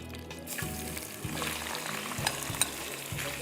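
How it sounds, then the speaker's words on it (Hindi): Marinated chicken goes into a hot pan and sizzles steadily, with a few stirring scrapes and soft clatters over the frying hiss; no one talks. "इसमें मैं डाल रही हूँ मैरिनेट की हुई चिकन"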